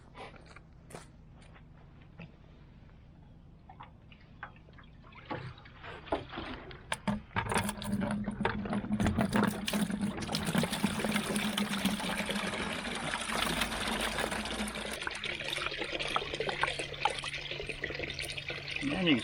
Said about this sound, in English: we will try to get this vinegar out first.